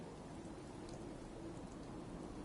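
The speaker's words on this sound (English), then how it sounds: "Hope this rain lets up soon." Steady rainfall in the video game Fallout 4, a soft continuous hiss of drops on surfaces, even and unbroken with no voices.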